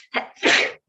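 A single sneeze, short and sharp, with a brief intake just before it, fairly close and alone, during a legislative committee hearing.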